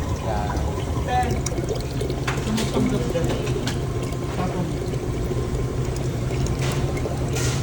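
Water is poured into a Carpigiani soft-serve machine during a wash cycle, a steady splashing and trickling pour that runs throughout over a constant machine hum and a busy room with people talking.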